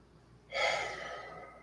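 A single long breath out during a yoga sun salutation, starting abruptly after a short quiet pause and continuing as a close, breathy rush of air that slowly fades.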